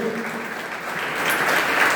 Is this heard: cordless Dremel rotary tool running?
no